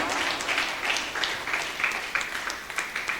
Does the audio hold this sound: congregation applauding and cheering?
yes